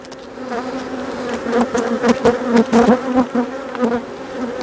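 Honey bees buzz loudly and continuously at opened beehives on the coast in March, a dense close hum with individual bees swelling past.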